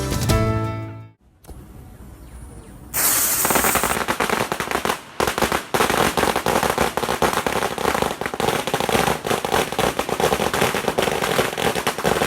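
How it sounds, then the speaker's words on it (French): Strings of firecrackers set off at a New Year celebration inside a departmental assembly hall, loud rapid crackling bursts after a brief lull, continuing densely for several seconds. "Des pétards pour éloigner les mauvais esprits"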